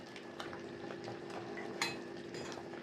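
A spoon stirs powdered milk into prawn malai curry made with giant freshwater prawns in a pan, producing quiet scraping and clinking against the metal with a faint sizzle underneath and one sharper clink.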